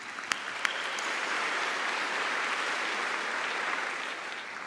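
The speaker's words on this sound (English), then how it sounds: "So let's take a moment to give them a round of applause." Large-crowd applause at a high school graduation ceremony, a steady wash of distant clapping with a couple of sharper claps near the start, no talking over it.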